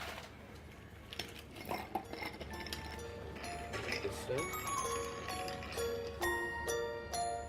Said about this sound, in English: Then I'm going to stir it on ice.